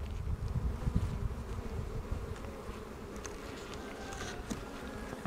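Honey bees hum in a dense, continuous low drone at an open hive during a spring inspection, with individual insects buzzing past at varying distances and light rustling underneath.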